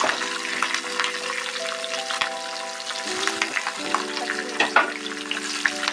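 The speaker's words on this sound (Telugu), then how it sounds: "ఇవి కొద్దిగా వేగాక దీంట్లో పచ్చిమిర్చి వేసుకుంటున్నాను" Green chillies sizzling and frying in hot oil in a pan, a close, continuous crackle with occasional stirring sounds and a faint steady tone underneath.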